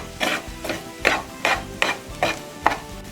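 Chicken koththu is chopped and beaten on a griddle, a steady rhythm of about seven sharp metallic clanks at even intervals, close and clear with no talking.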